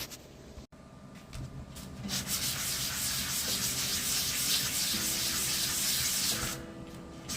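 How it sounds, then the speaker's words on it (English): Hand sanding a small part for a 1967 Mustang Fastback model, a steady soft rubbing hiss that keeps going for several seconds, close and quiet, with a faint tonal hum underneath. "I'm rolling these in my fingers also while I'm sanding"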